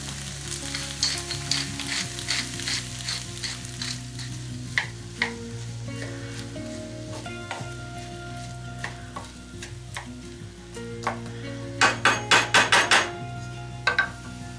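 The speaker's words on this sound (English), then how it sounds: "we'll let that cook through until obviously all the vegetables are cooked through" Beef and vegetables for filo pies frying in a pan, with a steady sizzle under sharp clinks and scrapes of a utensil stirring against the pan and a quick rattling burst of taps near the end.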